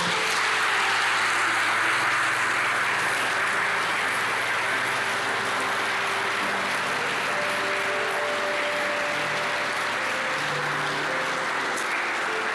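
Steady applause from a congregation fills an Assembly of God church service, a dense, even wash of clapping that holds for the whole stretch with a faint tone underneath.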